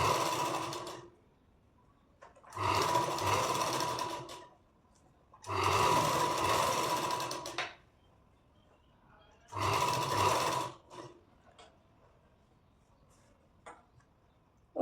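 A sewing machine stitches the lining margin of a princess-cut deep-neck blouse in three close, steady runs of about two seconds each, separated by quiet pauses with light handling noises.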